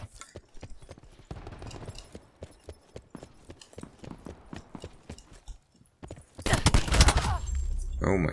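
Burst SMG fire in Black Ops 4: repeated sharp shot transients crackle in quick, regular bursts at moderate level, then a louder, denser stretch of noise takes over near the end.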